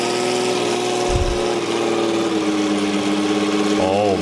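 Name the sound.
Porsche 917K racing car engine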